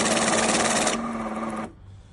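A multi-currency banknote counting machine whirs loudly and steadily as notes feed through, then the whirring drops lower and cuts off near the end, leaving quiet room tone.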